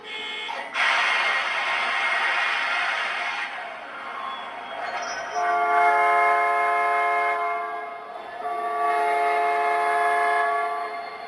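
A model train rumbles along as a loud multi-tone horn blasts several times in long, separated honks, close by.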